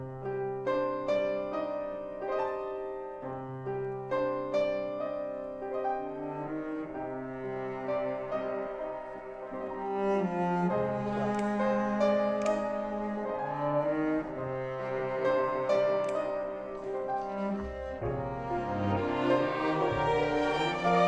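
An orchestral piece, a slow, mournful melody carried by sustained strings and layered instruments, building gradually in fullness, with no talking.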